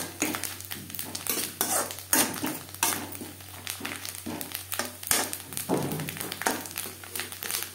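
Grated coconut frying with spices in a pan, with a spatula repeatedly stirring and scraping against the metal in an uneven rhythm, close and clear with no talking.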